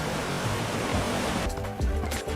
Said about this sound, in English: this seashell, which actually makes ocean noises